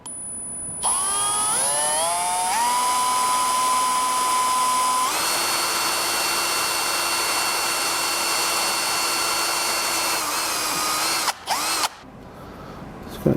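A power drill whines steadily as it slowly bores holes into a steel skid plate on a Toyota Tacoma TRD Pro, its pitch rising and settling through a long continuous run before briefly stopping and restarting near the end.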